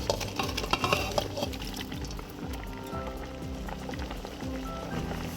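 Water pours into a pot of yam pepper soup, a steady splashing fill with a few clinks and knocks at the start, fairly quiet and close, with no talk.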